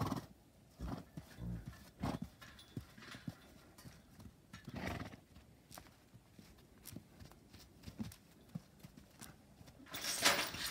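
Hooves clop irregularly on the ground as several horses shuffle and move about, with occasional louder thuds and scrapes nearby.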